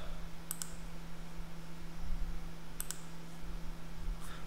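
Sparse, faint clicks of a computer mouse during a trading software setup: two quick double clicks and a softer one later, over a steady electrical hum in a quiet room.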